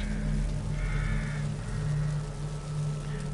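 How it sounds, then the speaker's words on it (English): Crows caw in long, harsh calls in the horror video game The Evil Within, set over a low droning ambient bed, with a couple of drawn-out caws close together. "Shut up, birds!"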